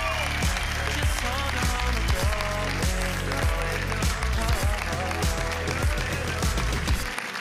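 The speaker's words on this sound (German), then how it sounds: "deshalb nochmal bitte einen ganz großen Applaus für Marina." On a German TV singing show, the studio audience applauds under loud stage music, with strong rhythmic beats and tonal band sound dominating while crowd clapping blends in the background until the music cuts off at the end.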